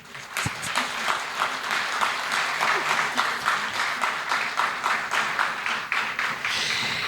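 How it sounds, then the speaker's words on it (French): An audience at an awards ceremony claps steadily throughout, with moderate, dense applause that is neither sparse nor roaring and holds even to the end. "Cet applaudissement est un peu timide pour Léocadie, s'il vous plaît."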